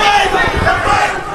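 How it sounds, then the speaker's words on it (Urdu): A large crowd at a religious gathering chants slogans together, a loud, continuous wall of voices with a steady roar and no pauses. "بس بڑے نعرے لگ گئے"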